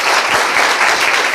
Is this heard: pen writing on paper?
no